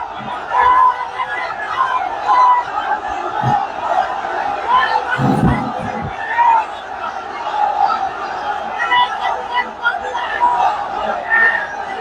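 A large crowd at an Islamic religious gathering (mahfil) in Pekua, Cox's Bazar, shouting a takbir chant in unison, the massed voices carrying steadily throughout with a few louder bursts of cheering partway through.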